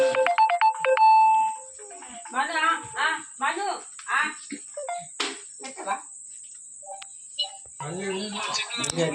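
A phone ringtone from an incoming group call chimes briefly at the start, then people talk close by while a steady high whine continues underneath.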